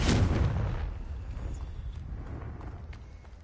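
A fiery Confringo spell explodes in Hogwarts Legacy, a single loud blast at the start that rolls off into a long, rumbling decay with faint crackles trailing behind.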